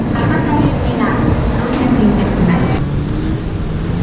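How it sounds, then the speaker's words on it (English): A bullet train pulls out of Kyoto station with a steady, loud rumbling roar and rushing wind, sustained throughout with faint voices in the background. "There goes my train."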